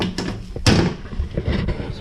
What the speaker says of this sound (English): We're going to close the door, see where we're at.